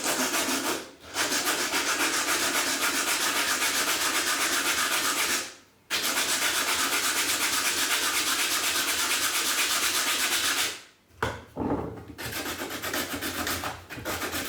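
Sandpaper rubs the finger holes of a bamboo shakuhachi flute in long continuous strokes, a loud, close rasping hiss broken by a few brief pauses, with no speech.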